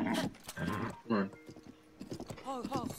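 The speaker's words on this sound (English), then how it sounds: "Still having trouble with this horse." Link's horse in Zelda: Breath of the Wild trots along with soft, rhythmic clip-clopping hooves and a brief whinny, faint beneath talking.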